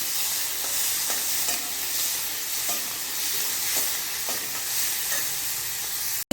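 Tomatoes sautéing with salt and turmeric in a pan while being stirred, giving a continuous close hiss of frying with regular scraping strokes of a spoon every second or so, ending abruptly, with no voices.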